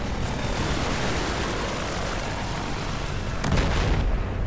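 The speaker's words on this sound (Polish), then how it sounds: "Helikopter zestrzelony!" A helicopter is shot down in the Battlefield 4 video game, set against a dense, loud roar of battle rumble and blasts. A sharper burst lands near the end.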